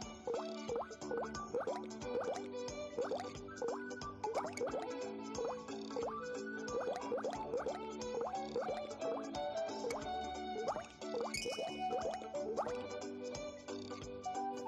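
Cartoon soaping sounds as a sponge lathers a toy car in a children's car-repair cartoon: steady wet squishing, dripping and plopping noises, soft and continuous over a busy musical background.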